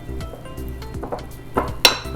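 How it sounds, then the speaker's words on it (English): Wire whisk beating chocolate donut batter into a loose dough in a bowl, a series of quick close taps and scrapes with a bright clink near the end. "And then just whisk it together till it becomes a very loose dough."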